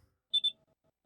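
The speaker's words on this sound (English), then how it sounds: "And what is that beeping sound?" Two quick high-pitched electronic beeps in the video game Farming Simulator 22, close together and fairly faint against near silence.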